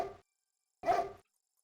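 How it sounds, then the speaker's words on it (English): A dog barks in the video game King's Quest VI, two short separate barks with a gap of silence between them, fairly quiet and alone. "and get barked at"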